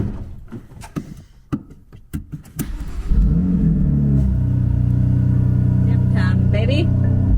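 BMW M2 Competition engine revving up loud, a rough idling rumble giving way about halfway to a sustained, steady high-rev roar that holds to the end.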